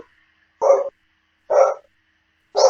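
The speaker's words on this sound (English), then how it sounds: "Sorry about the barking." A neighbour's dog next door barks three times in steady succession, each bark sharp and clear, heard from a room with no talking.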